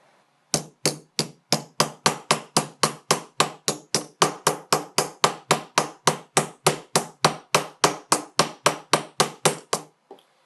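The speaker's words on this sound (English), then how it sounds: "I'm going to use a hammer for the moment." Rapid, evenly spaced hammer blows flattening fused silver pieces, about three strikes per second, sharp and close, continuing for roughly ten seconds before stopping.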